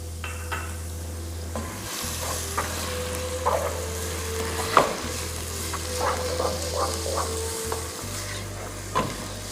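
Onions and chilies fry in hot oil in a pan for chicken coconut curry, a steady loud sizzle running throughout, broken by repeated scraping stirs and spoon clinks, with no talking.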